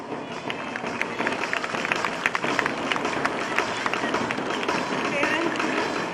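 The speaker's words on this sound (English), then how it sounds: "a round of applause" An outdoor audience at a school sports meet claps in a sustained, dense round of applause with scattered sharp individual claps and a murmur of crowd voices throughout.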